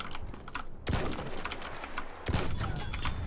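Rapid gunfire in Battlefield 1 during a They Shall Not Pass DLC match, a dense, continuous rattle of shots with heavier bursts punctuating the steady clatter.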